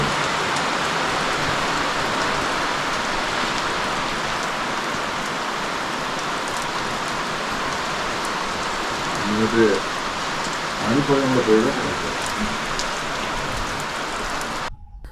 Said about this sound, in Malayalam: ഇപ്പം കോടമഞ്ഞ് കഴിഞ്ഞിട്ട് അടുത്ത മഴ.